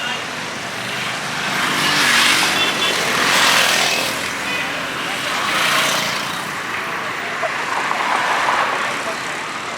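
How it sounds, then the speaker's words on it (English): A MIO city bus of Cali's public transit system passes on a street, its engine and road noise swelling and fading in broad waves amid steady nearby traffic, fairly loud and close. "This is El Mio. This is the transportation system in Cali. This is their bus line."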